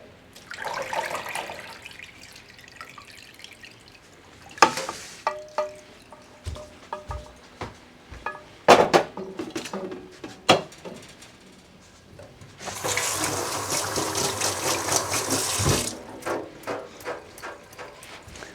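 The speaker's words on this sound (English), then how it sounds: "So I'm filtering it just because that's been the habit for years" Liquid pours and splashes through a kitchen strainer in bursts, with a sustained broadband rush of flow near the end, interspersed with small clinks and handling knocks.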